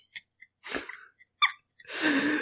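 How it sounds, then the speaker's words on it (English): A cat sneezes indoors in a quick close-up sequence: small snuffly breaths, a sharp sneeze, a couple of short nasal bursts, then a longer breathy exhale. "the cat sneezed"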